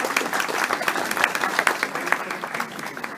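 Audience applause closing a lecture at the Cátedra Ignacio Manuel Altamirano, a dense, steady wash of many hands clapping at close range, sustained and fairly loud for its full length with no talk.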